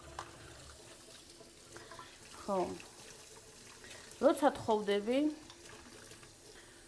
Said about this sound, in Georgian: თან ჭურჭელი უნდა გავრეცხო თქვენთან ერთად